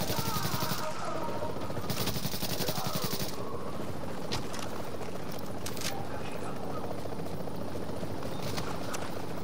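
A helicopter in the video game Tom Clancy's The Division drones loudly and continuously, mixed with bursts of gunfire and someone talking over the din.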